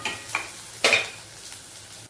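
Spices sizzle in a hot pan as they are sautéed and stirred, with two scraping bursts of a spoon against the pan over a low, steady hiss.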